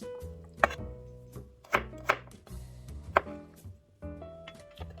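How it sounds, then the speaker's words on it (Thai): A knife chops onions and garlic into squares on a board, giving a handful of sharp, irregular knocks close by with steady background music underneath. "peel onions and garlics cut into squares"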